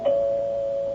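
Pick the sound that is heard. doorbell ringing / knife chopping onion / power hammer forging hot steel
doorbell ringing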